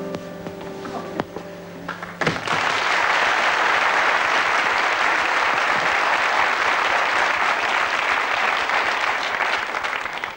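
A television game-show studio audience bursts into loud, sustained applause for the butler character after a short quieter lead-in, the clapping staying full and even until it cuts off at the end.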